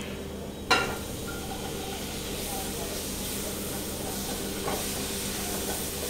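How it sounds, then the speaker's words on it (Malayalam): Tomatoes hitting a hot pan of spiced green peas fry on low flame: a sharp crackle on impact, then a steady loud hiss and sizzle that continues throughout, with a voice speaking over it. "ലോ ഫ്ലെയിമിലിട്ട് ചിക്കി കഴിഞ്ഞിട്ട് ആ തക്കാളി ഇടുക"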